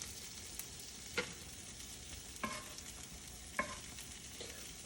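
Eggs fry in butter in a pan with a soft, continuous sizzle, broken by three sharp utensil scrapes or taps spaced about a second apart.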